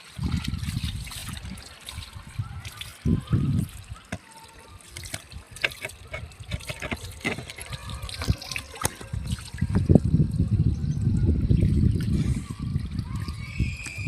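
Clothes being washed by hand in a tub of water on a hot, sunny summer day, with a small child splashing along. Uneven sloshing and trickling water comes in bursts and grows fuller and louder toward the end.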